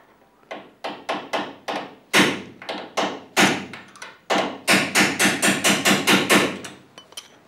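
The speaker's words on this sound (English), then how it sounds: "Just get the old Birmingham screwdriver on that and knock it through with a drift." A hammer strikes a drift to knock a shock absorber through, a long series of sharp metallic blows, loud and close, in uneven bursts that speed into a rapid run near the end.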